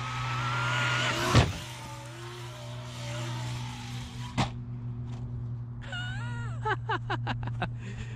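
Traxxas X-Maxx RC car running a stock 8S motor in two-wheel drive after a broken rear drive cup, with a steady motor whine throughout, a sharp impact near the start and another mid-clip, and rising whirring pitch sweeps toward the end.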